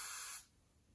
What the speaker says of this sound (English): I'm gonna spray some Got2Be